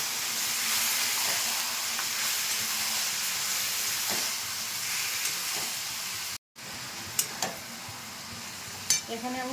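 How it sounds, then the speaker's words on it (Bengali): Bottle gourd pieces hitting a hot pan with fried onions, giving a steady sizzling hiss broken by a brief dropout and a few sharp stirring clacks near the end. "এবার লাউটা দিয়ে দিচ্ছি।"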